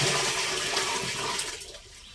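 Decomposed neem seed liquid poured from a container, a brief loud splashing gush of liquid that thins out and fades over about two seconds.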